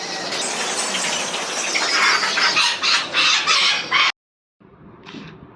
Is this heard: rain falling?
no